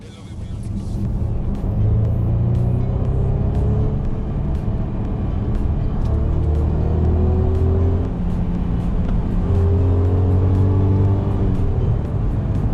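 Inside a Mercedes-Benz GLC 300 Coupe AMG Line, where the engine note plays through active cabin speakers as a loud, steady low drone with rising tonal sweeps as it accelerates, and faint clicks in the background.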